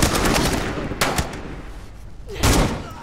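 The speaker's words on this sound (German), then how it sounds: "Oh, diesmal schießt Jody selber." Gunshots fired by the character Jodie in the video game Beyond Two Souls come as loud, sharp bursts over a dense, rumbling action backdrop, with one heavy shot near the start and another near the end.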